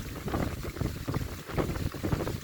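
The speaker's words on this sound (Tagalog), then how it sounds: "Tunog ang ano, hangin ah. Sumisipol." Steady gusting wind from a typhoon roars across the microphone with rumbling low-end buffeting, whistling and rising and falling in bursts throughout, no voices present.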